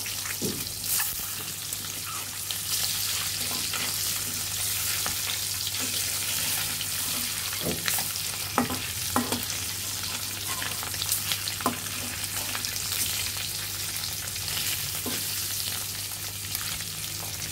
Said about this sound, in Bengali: এভাবে ডিম তেলের মাঝে 1 চিমটি পরিমাণের মতো হলুদ গুঁড়ো দিয়ে ভাজলে ডিমটা কালারটা খুব সুন্দর আসে